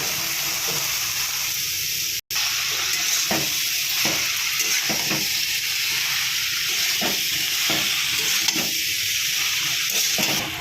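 Boiled spinach tossed into a hot pan with ground coriander and salt keeps up a steady broadband sizzle, with repeated soft stirring scrapes and one brief dropout; no one speaks.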